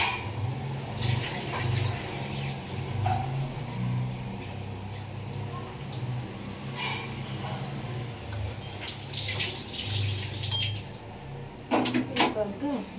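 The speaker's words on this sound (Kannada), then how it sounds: "ಈ ನೀರಲ್ಲಿ ವಾಶ್ ಮಾಡಿ ಮತ್ತೆ ಬೇರೆ ನೀರಲ್ಲಿ ವಾಶ್ ಮಾಡ್ತೀವಿ" Raw chicken is washed in a basin of water, with sloshing and splashing throughout and a few louder bursts of swirling water near the end.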